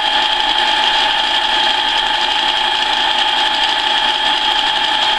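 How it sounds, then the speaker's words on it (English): Steady mechanical whirring and grinding from a lathe drilling a center hole, loud and continuous without a break, no voices. "Drill our center hole."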